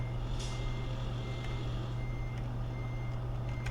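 Reversing beeps from a truck parking in Euro Truck Simulator 2, a few faint evenly spaced beeps over a loud, steady low engine drone with no talking.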